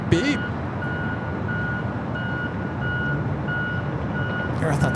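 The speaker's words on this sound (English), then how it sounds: "I thought that was a truck going backwards" A truck reversing alarm beeps at Los Angeles International Airport, evenly spaced electronic tones over a loud rumble of airport and engine noise, heard at moderate distance.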